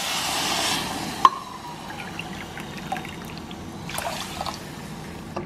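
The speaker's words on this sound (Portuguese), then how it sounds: "então vou colocar o dobro de água." Water is poured into a pot of garlicky rice for a chickpea stew meal, a steady splashing pour at first, then quiet trickles and drips with a sharp clink from the pot.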